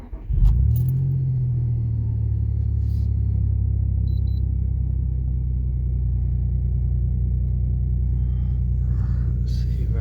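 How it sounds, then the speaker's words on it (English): A Nissan Stagea M35 engine cranks and catches, then settles into a steady, loud, close idle rumble that holds for the rest of the stretch, with a few faint clicks over it. "Let's fire it up."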